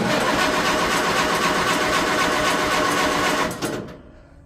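Tractor engine running hard on its first start of the year, a dense loud mechanical clatter that holds steady for several seconds and then winds down and cuts out.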